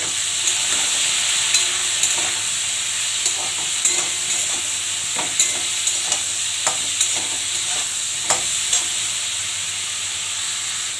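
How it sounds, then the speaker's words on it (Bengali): A vegetarian vegetable curry with turmeric and cumin sizzles loudly and steadily in a pan while a spatula scrapes through it in frequent, fairly regular strokes close by. "নাড়বো।"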